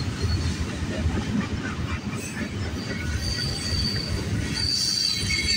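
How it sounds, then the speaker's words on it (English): A long freight train rumbles steadily past with its wheels squealing in high, wavering tones over the heavy rolling clatter, loud and close along the tracks. "We got a big train here."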